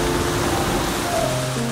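Steady outdoor rain falls continuously beside a statue of Sakamoto Ryōma in Kōchi overlooking rough seas of Tosa Bay, a dense even wash of drops with no speech.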